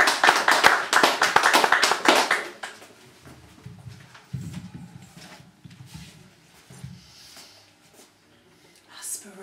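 A poetry-night audience gives a burst of warm applause for a poet, about two and a half seconds of dense clapping that quickly fades, followed by quiet room noise and a voice speaking softly.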